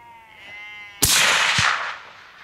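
A single loud rifle shot at a roebuck deer cracks out close by and then rolls away in a long fading echo across open country, after a bleating animal call just before it.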